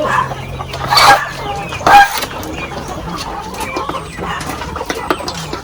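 Chickens at a poultry farm cluck in short, close bursts amid a busy coop background with scattered bird calls, and a voice is heard faintly at times.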